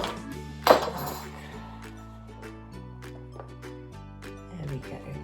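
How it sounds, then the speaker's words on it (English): Chunky vegetables tipped bit by bit into a soup maker, giving a sharp clatter followed by a run of light clinks and taps against the metal jug, close by and without speech. "So I'm going to do this bit by bit and add them to the soup maker."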